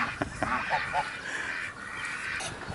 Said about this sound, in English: So, ducks, geese, and roosters.